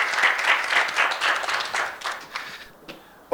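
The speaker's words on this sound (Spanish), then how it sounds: "Un aplauso para ella también, por favor." An audience at a documentary film journalism forum applauds a film director: a warm burst of clapping that gradually thins out over three seconds, ending with a few scattered claps.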